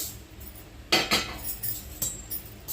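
Coriander seeds dry-roast in a heated pan as a metal utensil stirs them, producing a few sharp, close clinks and scrapes against a quiet background, with no voices.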